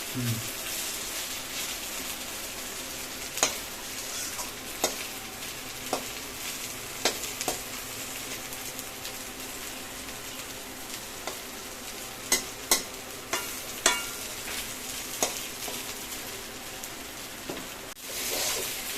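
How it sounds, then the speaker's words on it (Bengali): Potatoes frying with spice paste in a pan, being stirred for a rohu fish curry: a long, steady sizzle runs throughout, broken by scattered sharp scrapes and taps of a spatula against the pan. "মশলা আলু ভেজে নিচ্ছি কষিয়ে নিচ্ছি"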